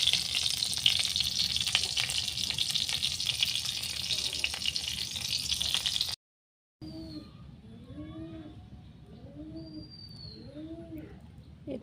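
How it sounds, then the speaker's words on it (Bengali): Chepa puli rice cakes fry in a pan on a village clay stove with a bright, constant sizzle for about six seconds; after a brief silence, pigeons coo repeatedly nearby. "এই তো আমার পুলি ভাজা হয়ে গেছে, চেপার পুলি। এখন আমি নামিয়ে নেব।"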